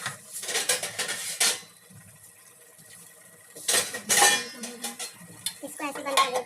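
A lid set onto a pot of peas-and-paneer curry cooking on a gas stove, heard as clattering metal knocks and scrapes in two bursts separated by a quiet stretch.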